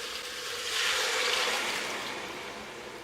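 Broth is poured into a pot of vegan Tuscan soup, a steady splashing stream that swells in the middle and then eases off. No voices are heard.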